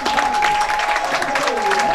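Applause and shrieks from a crowd for the gold medallist of a women's trap shooting final at the 2018 ISSF World Cup in Changwon, steady and loud, with a commentator's voice over the top.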